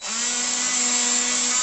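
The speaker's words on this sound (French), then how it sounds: "j'ai installé ma perceuse à colonne sur le petit plan de travail" A drill press set up on a small workbench runs with a loud, steady electric whine and a constant hum for the whole stretch, with no voices.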